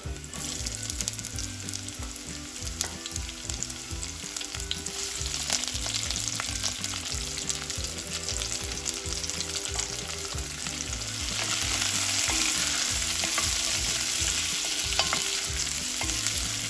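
Sliced onion sautés in a pan, a steady broad sizzle that runs throughout with no voices. The frying swells slightly louder toward the end.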